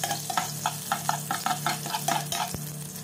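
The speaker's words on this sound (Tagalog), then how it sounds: "Magigisa na tayo mga kauragon" Garlic sautéing in butter in a pan, with a steady close sizzle and a regular rhythm of stirring scrapes and taps from a utensil against the pan, no speech.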